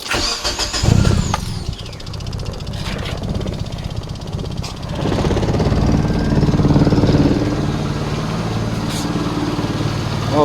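A car engine starting after its wiring was rewrapped: starter cranking and a brief catch, then the engine fires and settles into a loud, steady idle close by, with a few clicks and knocks around it.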